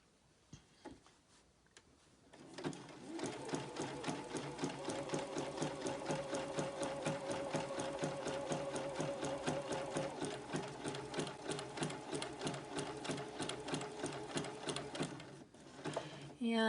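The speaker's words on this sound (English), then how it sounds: "I'm sewing purple on purple" A sewing machine runs a dense zigzag stitch through purple appliqué fabric laid on purple, a steady rapid mechanical chatter that starts after a quiet moment, holds for about twelve seconds, then stops.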